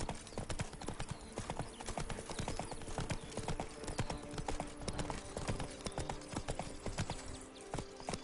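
Roach, a horse in The Witcher 3 video game, galloping with a steady, rapid clip-clop of hooves throughout, set against a continuous background ambience.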